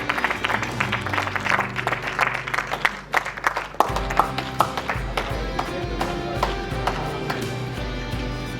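Applause at an environmental awards ceremony in Jaipur rises in a burst of claps, then settles under a low hum and scattered louder claps, with faint background voices.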